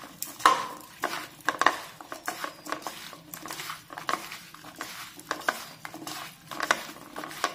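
Carrot and bean instant pickle is stirred together with cooled oil in a bowl, giving a steady run of close, irregular clinks, scrapes and wet patters from a spoon against the vessel.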